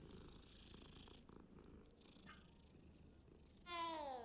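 A cat purrs softly as it is petted in a Hogwarts Legacy cutscene, a steady low purr that runs throughout before a brighter, louder cat call rises near the end.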